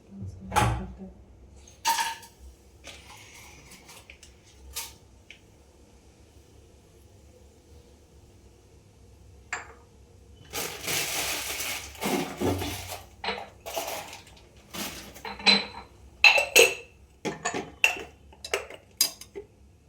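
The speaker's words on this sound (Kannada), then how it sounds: "ಪಲಾವ್ ಒಗ್ಗರಣೆ ಹಾಕೊಂತ ಇದ್ದೀನಿ." Tempering for vegetable pulao with carrots and beans frying in a pan, heard as bursts of sizzling and clinking utensil noise that grow denser and louder toward the end, after quieter scattered clatter.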